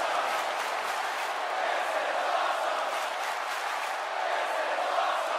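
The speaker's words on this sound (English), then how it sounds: "The crowd is buzzing." A dense arena crowd at a WWE 2K17 wrestling match fills the air with a steady, even murmur of voices and noise, unbroken and fairly loud throughout.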